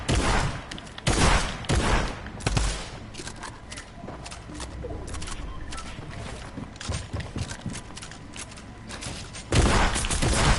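Rapid bursts of gunfire from an online arena shooter crackle loudly near the start and again at the end, with scattered shots and footstep-like clatter in between, and no voices over it.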